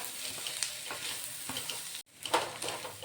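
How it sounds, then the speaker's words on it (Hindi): Potatoes and spices are stirred in a pan over a low flame, giving a soft, continuous sizzle with scraping strokes of a spoon and a brief pause partway through. "आलू को हम मसालों में मिक्स कर लेते हैं"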